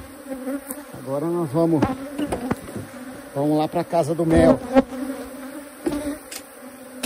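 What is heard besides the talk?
honeybees buzzing around a full honey super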